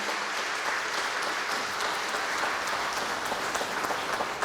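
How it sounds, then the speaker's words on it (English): Outdoor crowd applause for an honor guard after a gun salute at a fallen heroes memorial, a broad, steady wash of many hands clapping at moderate distance, sustained without pause. "If we could give them a big round of applause, our honor guard"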